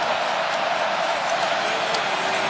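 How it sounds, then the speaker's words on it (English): A predominantly Clemson crowd at a college football game, the 2018 ACC Championship against Pittsburgh, roars as a steady, loud, dense wash of stadium noise. "And this predominantly Clemson crowd making noise"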